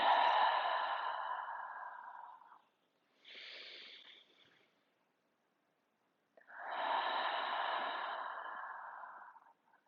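Slow, deep belly breathing during a Dirgha pranayama exercise: long, airy nasal breaths, close and fairly quiet, with a short breath between two longer ones and silent pauses in between.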